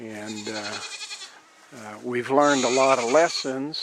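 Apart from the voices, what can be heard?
goats bleating in the background on a farm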